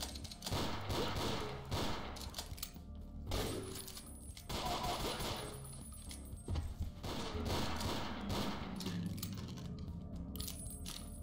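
Magnum revolver shots in the post-apocalyptic shooter game Ashes 2063, a series of sharp reports scattered through dense game action and music, fairly loud and close.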